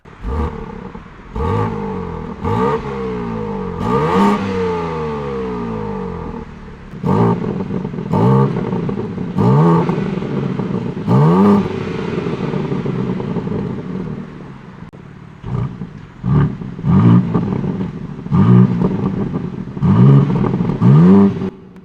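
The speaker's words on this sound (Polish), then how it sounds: "możemy wpłynąć na brzmienie układu wydechowego" A BMW M3 Touring's active sport exhaust revs in repeated sharp bursts, each rising then falling off, loud and close with short pauses between blips.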